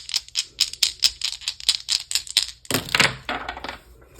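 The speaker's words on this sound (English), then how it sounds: "let's roll the Astro dice, see if there's any other signs and symbols" Astrology dice rattled and rolled during a love tarot reading, a rapid series of small clicking knocks followed by a brief clattering tumble, close and fairly loud.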